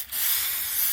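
Degreaser sprays in a steady, loud hiss over a bicycle chain for about a second after a brief quiet start.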